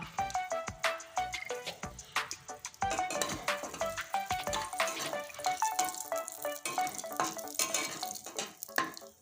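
Two dried red chillies and two bay leaves frying in oil in a pan, with busy crackling sizzle and repeated clinks and scrapes of a spatula stirring against metal throughout.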